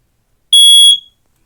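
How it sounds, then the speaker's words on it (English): Standard smoke alarm running on a 9-volt battery gives one loud, piercing electronic beep of about half a second when its test button is pressed, alone in an otherwise quiet room. "Press it and it beeps."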